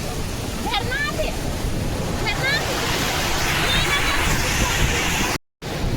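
Kapildhara waterfall at Amarkantak roars as a steady, loud rush of falling water seen from a glass viewing platform, with bird chirps above and a brief dropout near the end.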